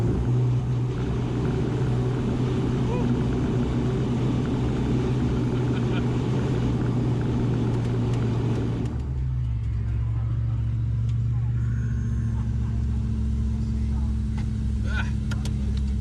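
A Dallara Stradale sports car drives under a loud, steady engine rumble that drops to a lower, quieter drone partway through, heard from inside the car.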